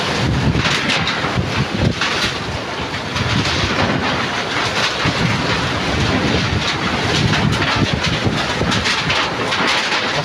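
Strong typhoon wind batters an island, a continuous loud roaring rush with gusty buffeting against the microphone and no talk.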